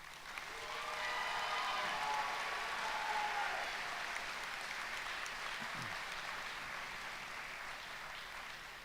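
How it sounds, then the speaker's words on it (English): Sustained applause from a commencement audience honoring bachelor degree graduates at a winter ceremony, a steady wash of many hands clapping that stays fairly even across the whole stretch with a slight fade near the end. "Please join me in a round of applause for our bachelor degree students."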